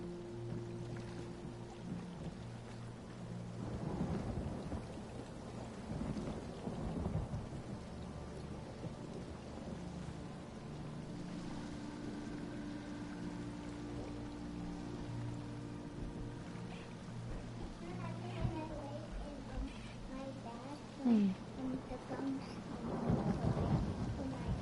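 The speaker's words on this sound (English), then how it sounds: "it's raining and cloudy here too" Steady rain falls in a fantasy role-playing game, Elder Scrolls Online, with low rolling thunder swelling and fading through the wash of the downpour, heard alone at a moderate, even level.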